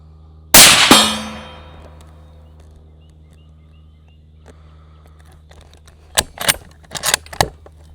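A single loud gunshot from a Ruger Hawkeye Hunter .308 rifle with a 16-inch barrel, with a sharp crack and a long ringing decay, then a few fainter clanks and rattles several seconds later.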